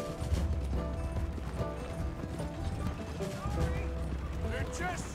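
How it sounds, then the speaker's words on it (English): Horse hooves galloping in the video game Red Dead Redemption 2, a fast continuous clip-clop under game music and talk, with a distant gunshot-like crack. "My horse is faster than yours"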